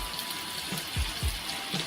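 Water is poured into a simmering Maharashtrian fish curry made with rawas fish, giving a soft continuous gush with a few low splashes, moderately quiet and heard without talk.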